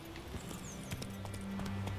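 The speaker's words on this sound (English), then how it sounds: "Mount your horse." Horse hooves clip-clopping in the Witcher 3 video game, a faint rhythmic trot over low ambient game sound.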